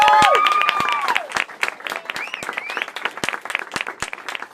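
Audience applause and cheering for a performer after a live performance, loud and bursty with sharp individual claps and crowd voices. A sung or whistled tone trails off at the start.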